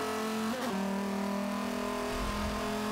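In the Forza 5 racing game, a #91 SRT Viper's engine drones at high revs, drops sharply in pitch during a gear shift, then holds a steady, loud tone alone.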